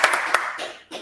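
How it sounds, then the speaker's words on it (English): A congregation at a Sabbath service gives a brief burst of a few sharp claps over a speaking voice. "clap it up"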